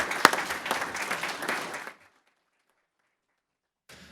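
Audience applause at a comics forum live event, a couple of seconds of dense clapping from a modest crowd that cuts off abruptly into silence, with a faint rustle returning at the end.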